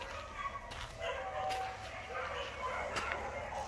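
A pit bull type dog at a breeding kennel gives a few short barks and yips at a moderate distance, mixed with someone talking nearby.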